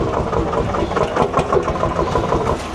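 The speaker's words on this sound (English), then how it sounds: "And that's actually called Rider Hot Engine." A heritage Rider hot air engine runs at an antique machinery display at an agricultural show, a loud steady rhythmic chugging and thumping with fast repeating beats and no talk.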